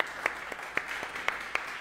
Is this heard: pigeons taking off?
no